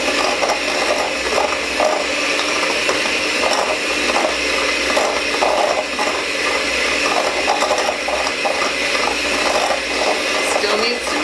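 Electric mixer creaming room-temperature butter and sugar in a bowl for pumpkin spiced muffins, a loud, continuous whirring motor with a rapid rattling, ratchet-like texture throughout.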